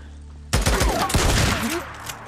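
A sudden loud shotgun blast in the Days Gone zombie game, followed by a few more heavy shots and echoing gunfire that trail off over a couple of seconds, with no speech.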